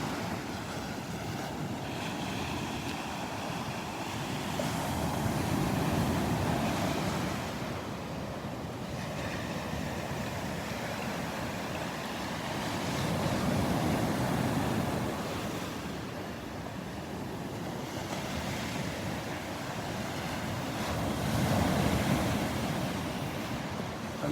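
Gulf of Mexico waves breaking on the beach at Delnor-Wiggins, slow rolling swells of surf building and receding about every seven seconds, with steady wind rumble over the microphone and no voices.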